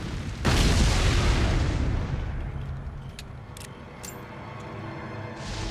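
A single heavy cannon blast in the Resident Evil 4 game, a loud booming report that erupts sharply and then rumbles and fades over several seconds, with faint clinks afterward.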